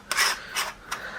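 A kitchen noodle press gadget filled with dough is screwed shut, giving three short, faint scraping rasps of threads turning, close and quiet.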